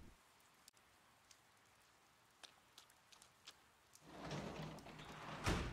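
Rain in the Persona 4 Golden video game starts as faint scattered drips over quiet background, then swells into a louder, continuous downpour for the final seconds.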